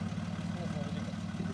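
The engine of a 4x4 off-road vehicle in a club challenge drones at a steady low pitch, faint and brief, with a voice nearby.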